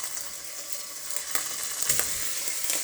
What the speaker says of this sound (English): let's just put on the olive oil. Let's put the ham on.